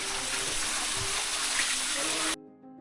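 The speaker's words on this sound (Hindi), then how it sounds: "finally we can see the waterfall" Waterfall on a trip from Kolkata to Ghatshila, a steady broadband rush of falling water heard close and loud, cutting off abruptly near the end.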